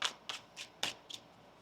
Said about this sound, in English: One more shuffle here.